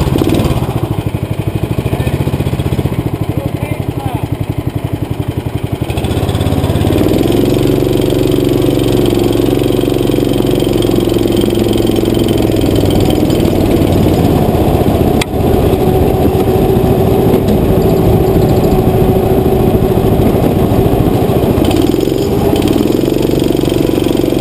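Go-kart engines at a raceway buzz loudly and continuously nearby, their drone shifting pitch as the throttle rises and settles, with a brief sharp knock partway through.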